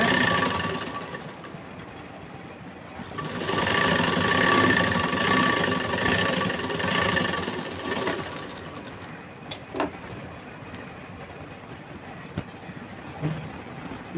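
A sewing machine runs a straight seam through lining cloth, a steady mechanical whir rising for several seconds then easing off, followed by a few faint clicks and handling noises, with no talk.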